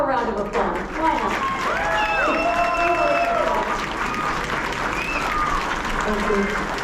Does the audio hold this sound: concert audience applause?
yes